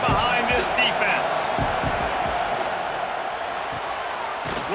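Stadium crowd at a college football game between Notre Dame and USC, a dense, steady roar of cheering that fills the whole stretch, with an announcer talking over it.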